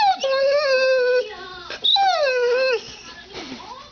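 A dog whines and whimpers close up in high, wavering, drawn-out cries, several rising and falling whines in a row with short breaks and a softer yip near the end.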